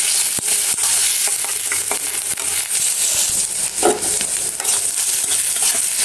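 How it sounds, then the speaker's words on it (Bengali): Okra frying with onions in a small amount of oil, a steady close sizzle with scattered stirring scrapes and clinks throughout; no one talks. "পেঁয়াজগুলো হালকা ভাজা ভাজা হোক।"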